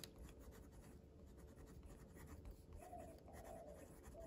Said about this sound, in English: Let's do a quick writing sample now with this pen.